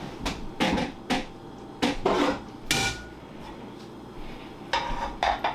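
Metal pans clank and knock in a kitchen while being switched out, a string of sharp close clatters and thuds with short pauses between them.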